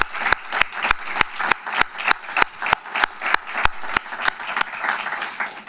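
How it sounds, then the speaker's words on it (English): Audience applause at a live event in St. Louis, a steady wash of many hands clapping with a few loud, sharp, regular claps standing out near the recorder throughout. "Give you a round of applause."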